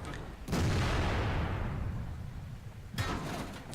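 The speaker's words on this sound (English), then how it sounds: "And then the Comet takes a shot at me." A tank cannon fires in the World of Tanks video game, a single loud close boom with a long rolling decay, followed about two and a half seconds later by a second sharp blast.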